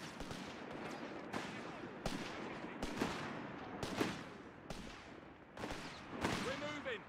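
Battle gunfire in a video game erupts in repeated sharp bursts and blasts, loud and close, with intermittent voice chatter mixed in.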